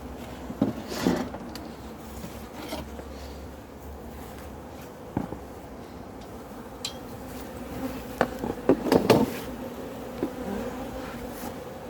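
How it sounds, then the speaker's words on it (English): Honey bees buzz steadily around a backyard hive, a continuous close drone with brief louder swells as individual bees pass near, along with a few soft knocks. "There's plenty of bees there."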